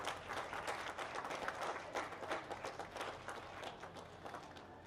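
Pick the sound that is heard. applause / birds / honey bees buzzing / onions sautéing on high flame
applause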